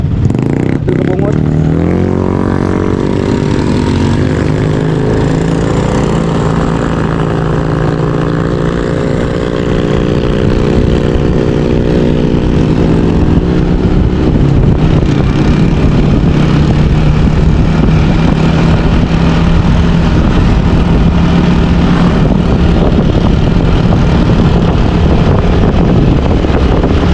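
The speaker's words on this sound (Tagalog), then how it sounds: "gamit na yung motor ni Bungot" A motorcycle ridden on a road in Mindanao, its engine rising and shifting through revs up close, heavy wind buffeting the microphone throughout, a long continuous ride without a break.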